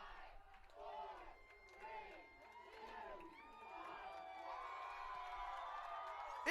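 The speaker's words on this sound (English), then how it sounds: "Listen to this crowd." A college football crowd cheers and roars loudly in a stadium, with rising whoops and shouts building into a sustained ovation at the close of the game; a commentator's voice carries over the noise.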